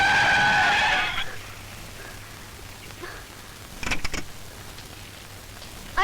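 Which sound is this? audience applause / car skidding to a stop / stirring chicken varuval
car skidding to a stop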